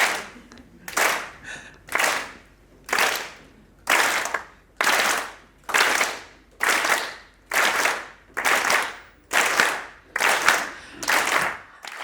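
An audience at a motivational talk by an Olympic athlete claps in slow unison, about a dozen loud, evenly spaced group claps roughly one per second, with no speech over them.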